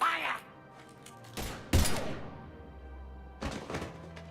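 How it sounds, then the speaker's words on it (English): Gunfire in the video game Mass Effect 3 comes as a few heavy thumping shots and crashes, loud and close, separated by a lull, with a low hum underneath. "Now open fire!"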